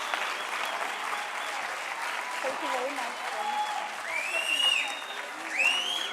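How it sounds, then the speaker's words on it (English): An audience at the official opening of the National Arts Festival 2022 applauds steadily for several seconds, with a dense, even clatter of clapping, as a voice speaks briefly over it. "Can we give another round of applause"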